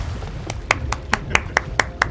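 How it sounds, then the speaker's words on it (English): Hands clap at a steady, slightly slow pace, about ten crisp claps close to the mic over a low background hum. "Passive aggressive clapping."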